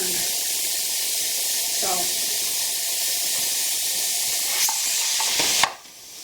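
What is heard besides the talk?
steam hissing out of a pressure canner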